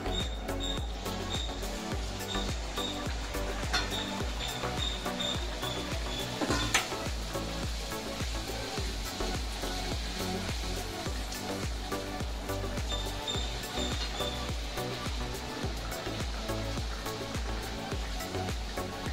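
Puri dough sizzling and bubbling in hot oil, a steady dense crackle that runs through the whole stretch with a brief louder burst partway in, with no voices.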